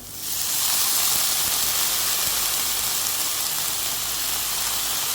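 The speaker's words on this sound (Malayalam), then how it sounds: "ഇതിലേക്ക് പൊടിയോളം ഒന്ന് വെള്ളം തളിച്ചിട്ട് നമുക്കിതൊന്ന് അടച്ചു വെക്കാം." Loud, steady steam hiss from water sprinkled over moong sprouts in a hot pan, rising within the first half second and holding at a constant level, with no talk over it.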